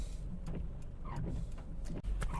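A car driving through Japan, heard from inside as a steady low engine and road rumble with faint intermittent clicks and rattles, no talking.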